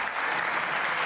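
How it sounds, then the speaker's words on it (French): Audience applause for improv performers at a live comedy show, a dense steady wash of clapping throughout the short moment, fairly loud with no voices. "On va passer maintenant à la deuxième impro, toujours avec Philippe et Benjamin sous vos applaudissements."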